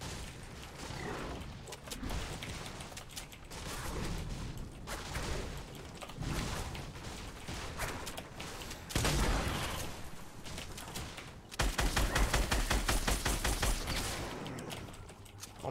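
Gunfire in the video game Fortnite: bursts of shots and mechanical clatter run through the whole stretch, with a louder, denser volley near the end.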